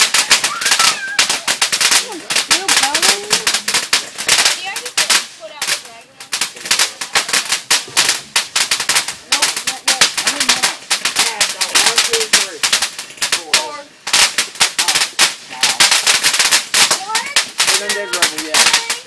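Fireworks set off outdoors in a rural backyard, with dense rapid bursts of sharp cracks and pops going off almost continuously, loud and close, like a string of firecrackers.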